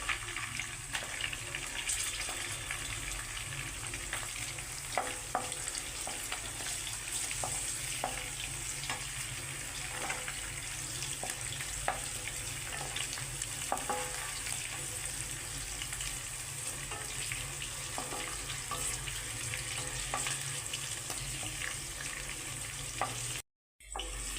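Green chillies and cashews sizzle and fry steadily in a pan of hot oil for jeera rice, a continuous crackling hiss with occasional stirring clicks, close and fairly loud throughout, with no talking.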